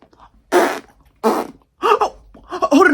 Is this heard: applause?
no